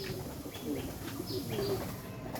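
Soft racing pigeon cooing in low, rolling phrases, repeated a few times over steady background noise, fairly close, at a pigeon farm.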